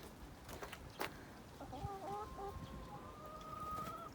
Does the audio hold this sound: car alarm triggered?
no